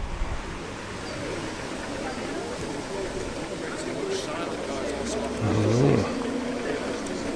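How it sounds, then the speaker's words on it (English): A post-war Daimler pulls away from a pre-1990 car meet, its engine a steady low rumble that rises briefly near the end, set against constant outdoor wind and crowd noise. "Superb post-war Daimler's heading off as well now."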